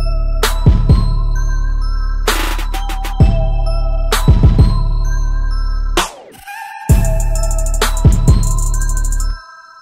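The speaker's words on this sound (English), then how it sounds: "I used a reverb send so that it didn't change the main signal of the vocal, but it did give it some presence." Reverb-washed vocal chops in FL Studio, with a reverb send adding presence without altering the dry vocal: loud bell-like tonal stabs over a steady low bass, repeated in bursts with brief gaps and a short swooshing break midway.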